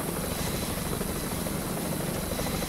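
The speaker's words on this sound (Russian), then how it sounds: "Ребята, вертолет." Helicopter in the Vietcong video game, a steady, loud rotor thrum with dense engine roar holding constant throughout, close by with no talk over it.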